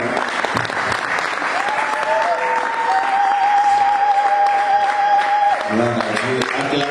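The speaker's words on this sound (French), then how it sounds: "Est-ce qu'on peut acclamer le Seigneur avec de joie?" A church congregation applauds and cheers for the Lord, a dense, loud burst of clapping filling the whole stretch, with a sustained sung or shouted voice rising over it in the middle.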